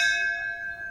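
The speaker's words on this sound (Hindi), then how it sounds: "अबे घंटी मार दे।" A doorbell rings once with a bright, sustained metallic chime that decays slowly, heard clearly and alone.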